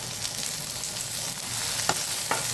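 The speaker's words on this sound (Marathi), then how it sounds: "आणि त्यामध्ये आपण हा कांदा फ्राय करणार आहोत." Onion fries in a hot pan with a steady, close sizzle and a couple of faint stirring clicks near the end.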